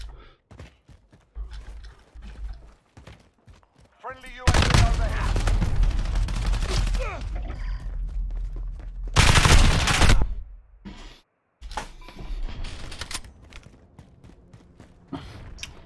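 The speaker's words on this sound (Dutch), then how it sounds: "Deze geweer is echt super overpowered momenteel nog." Gunfire in a shooter video game beta, with sparse single shots giving way to loud sustained automatic bursts, a second heavy volley later, then scattered quieter shots.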